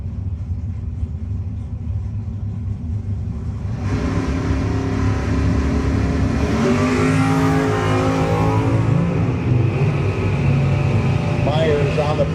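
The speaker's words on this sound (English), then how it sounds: "the Myers Conditioning Camaro dialed 583 against the Piscataway, New Jersey ride of Spangler dialed in 687." Camaro drag race cars at a no-box 660 shootout leave the line: a loud, rising engine roar and rumble sweeps in after a steady idling drone, while an announcer talks over it.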